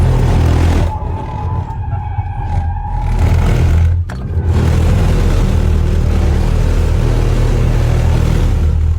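An all-wheel-drive Audi RS7 spins donuts with a strained differential: a loud, continuous engine roar and tire drone that briefly dips, then swells back to full strength.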